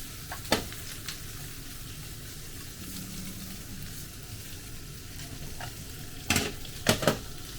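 Yakisoba noodles crisping in a hot pan, a soft steady sizzle with a few sharp utensil scrapes near the end.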